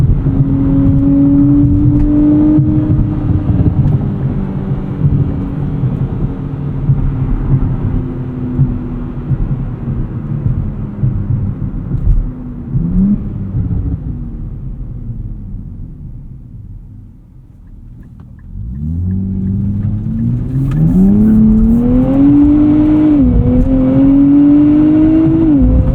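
The engine of a 2024 Nissan Z Nismo pulls hard out of a corner on Dunlop tires, a loud rising whine and rumble that eases off, dips nearly quiet, then surges up again in a strong climbing rev, with no talking.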